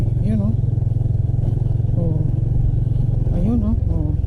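A Honda Wave RSX motorcycle on Corsa Cross S dual sport tires idles and putters loudly over rocky ground, its engine drone steady with bumpy clatter, while someone talks over it intermittently.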